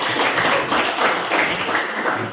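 Classroom clapping closing a school lesson, as students and teachers applaud together, a dense steady patter of many hands at moderate loudness without pauses.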